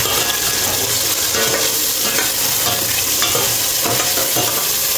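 Food frying in a pan is stirred steadily, a constant sizzle broken by repeated scraping strokes of a utensil, close and fairly loud, with no voices.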